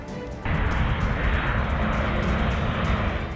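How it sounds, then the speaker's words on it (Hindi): A heavy C-17 military transport aircraft landing in no visibility on a short strip, a loud, steady engine roar that surges in and holds close. "दूसरी उपलब्धि थी नो विजिबिलिटी में C-17 की लैंडिंग।"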